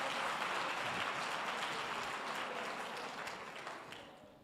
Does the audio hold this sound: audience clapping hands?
yes